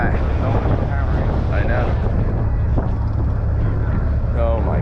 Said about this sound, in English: It's getting a little windy up here.